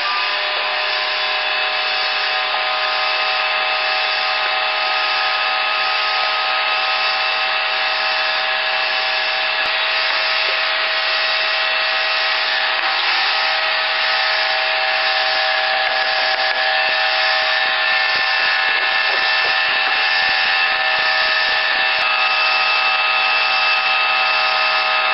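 An electric mixer whirs at a constant high speed through egg whites and sugar for meringues, a loud steady hum heard close up for the whole stretch, with no talking.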